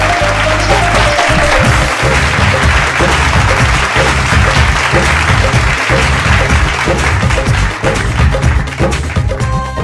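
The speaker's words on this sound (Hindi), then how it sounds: "जोरदार ताली के साथ स्वागत करी" Sustained, loud audience applause at a stage singing competition show, steady clapping filling the whole stretch without a break as a folk singer from Azamgarh, Uttar Pradesh is welcomed.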